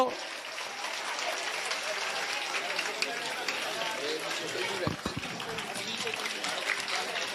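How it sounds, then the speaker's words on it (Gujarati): A crowd gives sustained applause at a primary school admission ceremony, a broad, continuous rush of clapping heard at moderate distance, with murmuring voices mixed in. "આપણે એમને ખૂબ તાળીઓથી વધાવી લઈશું. જોરદાર તાળીઓ."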